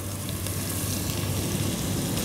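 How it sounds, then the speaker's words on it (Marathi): Coarse ginger garlic paste frying in heated oil for chicken sukka: a dense, even sizzle, close and continuous throughout the short clip, with no voices. "तेल थोडं तापलेलं आहे। आपण यात घालणार आहोत आलं लसूण क्रश किंवा थोडीशी जाडसर पेस्ट।"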